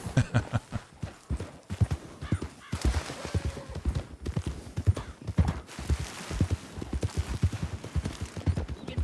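A show horse's hooves clop in a steady, loud walking rhythm, close by and continuing throughout with little else around them.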